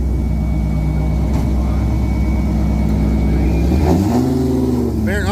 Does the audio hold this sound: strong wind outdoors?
no